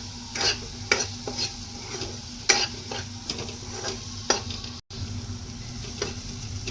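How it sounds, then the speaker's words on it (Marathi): Whole spices tempering in oil over a low flame for a fresh cashew curry give a steady soft sizzle, with repeated spoon scrapes and stirring strokes close by. "हे सगळं आपण मंद आचेवरतीच पर परतून घ्यायचं आहे फास्ट गॅसवरती परतून घ्यायचं नाही"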